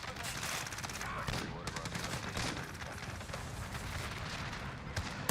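Dense, continuous light machine gun fire in a video game battle, overlapping bursts and distant shots filling the scene at steady loudness.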